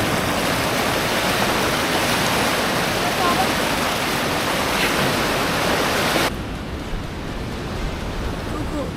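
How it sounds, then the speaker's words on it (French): Big waves crash against large rocks on a shore, a loud, continuous roaring wash of surf that drops to a softer rush near the end. "il y a des gros rochers et que des grosses vagues"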